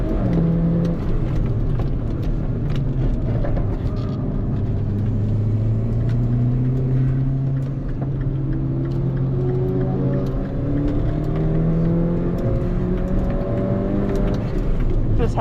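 A 2013 Mini Cooper GP engine drones loudly from inside the car on a race track, revs rising and falling through gear changes in a steady continuous roar with no talk over it.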